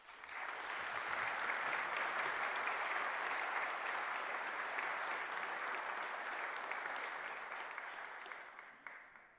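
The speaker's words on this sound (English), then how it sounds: "Let's give them a round of applause" An audience applauds steadily at a college graduation ceremony, dense sustained clapping with no speech over it, tapering off in the final second.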